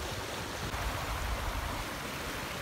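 Sampaloc river in Pantabangan, Nueva Ecija, flowing steadily downstream from Pantabangan Dam, a close, continuous rushing wash of water with a low rumble, no voices.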